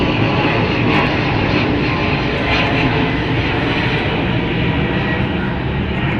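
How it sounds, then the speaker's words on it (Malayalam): An airplane flying low overhead near an airport, a loud steady roar of engines filling the air without break, close and continuous throughout. "പിന്നെ ഇതാ ഒരു ഫ്ലൈറ്റ് പോകുന്നതാ, ഇവിടെ നിന്ന് തൊട്ടടുത്താണ് എയർപോർട്ട്."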